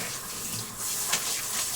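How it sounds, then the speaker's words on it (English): A towel is rinsed under a running sink tap, with water gushing and splashing steadily for a brief moment, close and moderately loud. "I just rinse it out in the sink"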